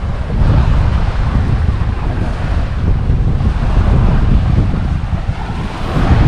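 A strong wind roars steadily and loudly at a tent campsite during a storm, buffeting the microphone with a constant low rumble and no pauses.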